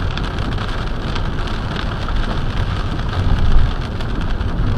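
Steady rain drums on a car during a driving test in Daly City under a darkened sky, a dense, continuous patter filling the cabin with a brief swell near the end and no talk.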